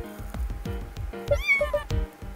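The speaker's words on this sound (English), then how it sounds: "Oh, hello, young cats." Cartoonish cat meows from a video game about a house and new neighbours, several short rising-falling calls over a steady rhythmic game soundtrack.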